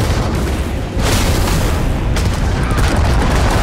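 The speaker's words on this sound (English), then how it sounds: "Now we can lay down those missiles." Missile launches during space combat in the video game Starfield, a continuous loud roaring blast with dense booming texture and a couple of surges, filling the whole stretch with no talk.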